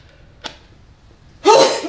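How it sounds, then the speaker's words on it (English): A single sneeze bursts out loud and close near the end, preceded by a brief sharp intake of breath, with no talking around it. "Excuse me, don't start sneezing now."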